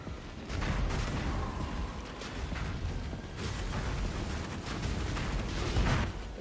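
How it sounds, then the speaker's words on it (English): A huge explosion in a video game blows apart a crowd of units, giving a dense, sustained roar of blasts and crackling debris that stays loud and continuous throughout. "I always love that huge explosion of dudes"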